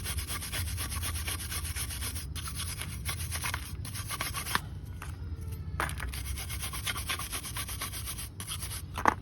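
A metal wire brush scrubs brake caliper parts during a rear brake job on a 2017 Nissan Murano, making rapid, close, raspy back-and-forth strokes in short bursts with brief pauses between them.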